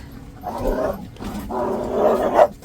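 Dogs turned loose and running wild around a yard, with loud, rough barking in two long excited bursts, close by and filling most of the moment.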